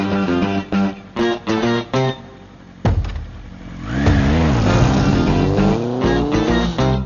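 A motorbike engine revs and accelerates loudly after some choppy sounds, rising and falling in pitch as the bike pulls away nearby.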